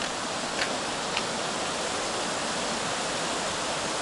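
River water rushing down over a weir at a spring-fed mountain stream: a loud, steady, broadband roar of falling water filling the whole clip, with no voices.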